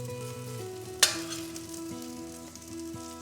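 Eggplant pieces sautéing in a wide pan, a soft even sizzle broken by one sharp clatter of stirring, with faint tonal music underneath.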